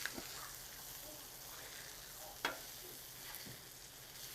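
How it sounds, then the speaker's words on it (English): Canadian bacon sizzling on a hot grill as it is flipped, a steady quiet hiss of frying with a brief sharper crackle partway through. "Time to give our Canadian bacon a little flip."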